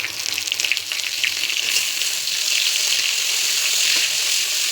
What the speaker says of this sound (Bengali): এখন দিয়ে দেবো ওই যে শুটকিগুলো একটু ভেজে নেব তেলের সঙ্গে